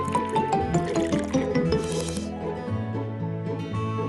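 Egg and milk pour into a bowl in a cake cooking video game, a cartoonish gurgling, dripping liquid effect layered over light background music.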